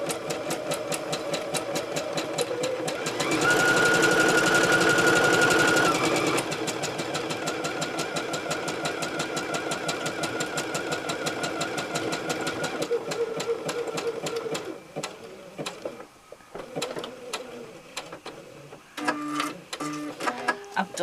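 A sewing machine stitches the corners of a potato sack, running in a steady mechanical whir with a louder, denser burst early on, then continuing with lighter rhythmic clatter and pauses toward the end.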